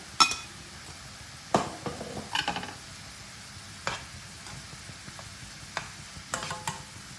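Mushrooms shallow-frying with turmeric, salt and pepper crackle softly in a pan, broken by a few sharp clinks and scrapes of a spatula stirring, close up with no voices.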